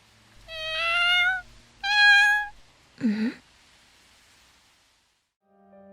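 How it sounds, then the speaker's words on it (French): A black cat meows twice in long, clear, drawn-out cries close by, followed by a shorter, rougher call, then quiet. "Oh, un chat noir."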